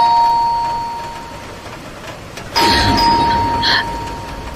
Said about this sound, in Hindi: तभी अचानक से दरवाजे की घंटी ने